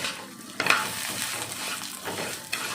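Vermicelli roasting in ghee in a pan over a medium gas flame, a soft continuous frying hiss broken by a couple of light scraping stirs, close and without speech.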